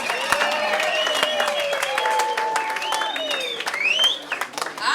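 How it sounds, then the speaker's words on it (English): A gala dinner crowd at a taxi association AGM bursts into sustained applause mixed with high, wavering ululations rising over the clapping. "welcome the president of Santaco, Mr. Motlhabane Abnar Tsebe, with a big round of applause and the ululations"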